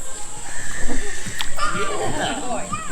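Pool water sloshes and splashes in a steady rhythm as a swimmer does the side stroke nearby, with people talking over the splashing.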